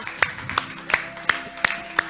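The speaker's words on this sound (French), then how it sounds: "Can we put our hands together for the Lord?" Six sharp, evenly spaced claps from a church congregation during a service, ringing out one after another in a steady rhythm with quiet pauses between them.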